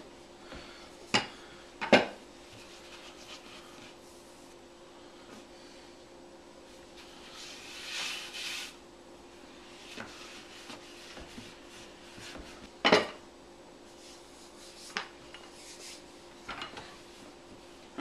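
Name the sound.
rolling out butter pie crust dough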